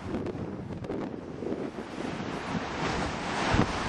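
Waves and gusting wind on Lake Pontchartrain beside the levee on an overcast day, a steady broadband wash of surf with wind buffeting the microphone throughout, swelling slightly toward the end.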